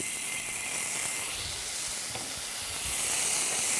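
Garlic hits hot oil in a pan along with chili powder, cumin and cinnamon, and a loud, steady sizzle and hiss rises from it as it fries on its own.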